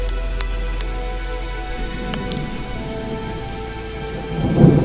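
A night thunderstorm brings steady, loud rain on surfaces, with a low rumble of thunder building near the end and no voices.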